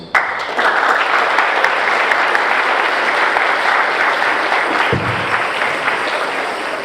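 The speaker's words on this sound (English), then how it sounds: "One round of applause, please." Sustained, dense applause from a large audience at a high school JROTC military ball, loud and even throughout with scattered individual claps standing out.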